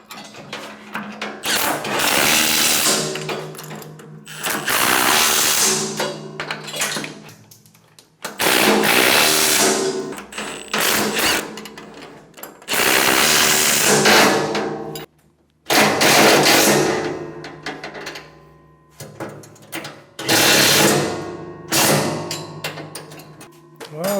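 A power tool tightens long bolts through thick strap iron on an auger, sounding in several loud whirring and ratcheting bursts of a few seconds each, separated by short pauses, with no voices heard.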